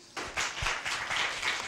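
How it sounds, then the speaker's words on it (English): A round of applause from a game show studio audience, a short burst of clapping that starts abruptly and stays fairly even for a moment. "Let's give ourselves a round of applause"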